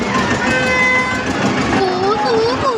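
A train rumbles along with steady rolling noise, while voices talk over it and a wavering tonal whine rises and falls near the end.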